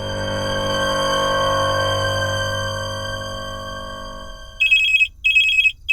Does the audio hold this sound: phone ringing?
yes